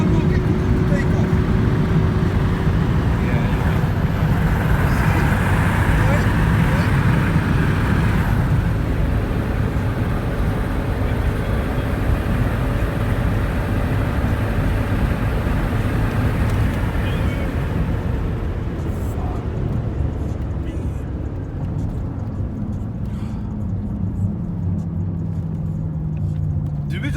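BMW X5M driving at high speed alongside a McLaren 720S, a steady loud engine and road roar with wind rush throughout, fading slightly toward the end.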